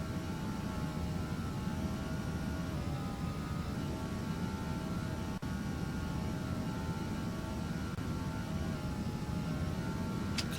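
Airbus A320 jet engines run at climb thrust in Flight Simulator X on departure from Prague, a steady dense cockpit roar with a whining engine tone that stays constant throughout.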